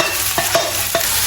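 Fried rice with carrots and cucumber is stirred in a hot pan, giving three or four quick scraping strokes over a constant sizzle.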